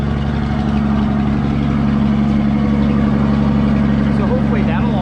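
An old farm truck engine idles steadily nearby, its low, lumpy rumble running unchanged for several seconds, with faint knocks and light background noise.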